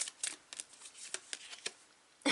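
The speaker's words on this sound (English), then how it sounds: "I'm shuffling the cards" Tarot cards being shuffled by hand, a run of quick papery riffles and soft flicks at close range, with a sharper burst of shuffling at the end.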